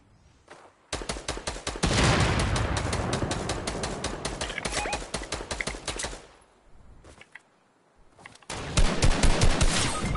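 Sniper fire and other gunfire in a PS4 shooter game, heard as loud, dense bursts of rapid shots that run for several seconds, break off briefly, then resume.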